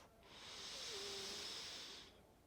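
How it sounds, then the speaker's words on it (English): A single slow, deep breath drawn in through the nose during a floor-based yoga class, heard close up as a soft hiss that swells and fades over about two seconds. "So breathing in through the nose."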